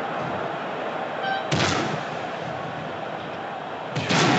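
Explosions in the Wrestling Revolution video game, two sudden loud blasts a couple of seconds apart, each a sharp broadband burst over a steady background din.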